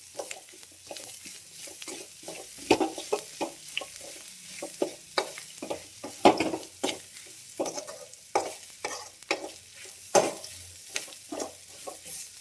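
Peanuts fry and get stirred in a pan while mango rice is cooked, with a steady sizzle under repeated sharp scraping strokes of the spoon, close and fairly loud with no voices.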